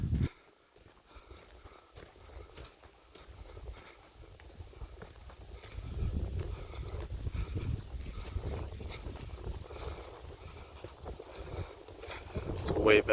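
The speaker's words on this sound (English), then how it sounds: "Oh, that wind alone." Wind gusts buffet the microphone at an outdoor campsite in a wildlife reserve, a steady low roar that swells louder over the second half, with faint incidental noises and no talking.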